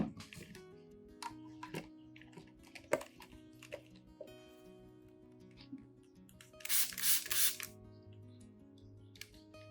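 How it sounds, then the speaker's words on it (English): Amid quiet clicks and handling noises, a spray bottle gives a single short hissing spritz onto plant leaves, close by. "gently spray both the upper and lower surfaces of the leaves"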